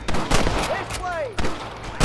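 Gunshots in the Western game Red Dead Redemption: a few sharp reports spread across the moment, mixed with a rising whistle-like tone and game noise, with voices present.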